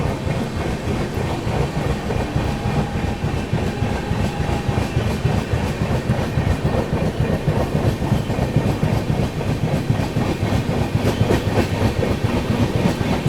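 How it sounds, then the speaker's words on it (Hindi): The Kashi Vishwanath Express pulls out of Pilkhuwa railway station, wheels clattering in a loud, steady rhythmic clickety-clack close by, with a faint brief squeal early on. "चलिए निकल गई अपनी ट्रेन जो है पिलखुआ रेलवे स्टेशन से।"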